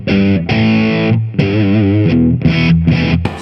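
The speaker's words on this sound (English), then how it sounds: "Now we're going to go to capsule A, which is the brown sound, which we all know and love." An electric guitar through a BOSS Waza amp head on its capsule A brown sound setting rings out with thick saturated distortion, loud and close, held chords and bent notes with short pauses between phrases.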